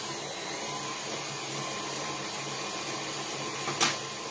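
A faint, steady electric mixer whirs while creaming cookie dough in a home kitchen, a continuous motor drone with a small clack near the end.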